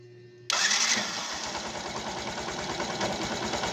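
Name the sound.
Yamaha YT motorcycle engine starting after new ignition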